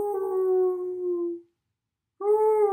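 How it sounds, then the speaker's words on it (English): A dog's drawn-out, anguished howl rings out twice, a long steady wail that fades away, then a brief silence before a second howl begins, clear and alone without any talk. "From far behind him, he heard Lucy's anguished howl."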